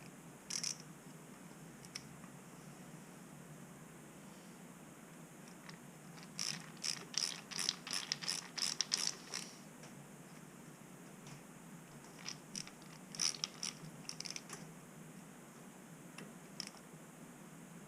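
Ratchet wrench tightening down a part on a Honda Trail 90 being rebuilt, rapid runs of clicking in a couple of bursts over a steady hum of background noise.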